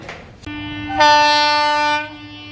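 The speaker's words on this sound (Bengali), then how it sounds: "এই যে একটা ট্রেন যাচ্ছে" A train passing near a village sounds a single loud, sustained horn blast lasting about a second, preceded by a sharp knock and rumble and followed by fading rail noise.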